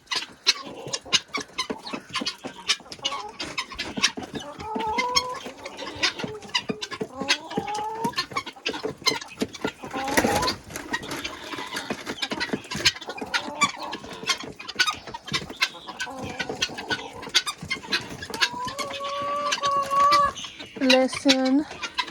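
Chickens, along with ducks and guineas, let out of their coop after a snowstorm, clucking and calling busily throughout, with a brief crow-like outburst midway and louder squawks near the end; a voice speaks briefly among them.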